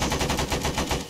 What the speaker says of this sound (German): dann mache ich das Magazin eben leer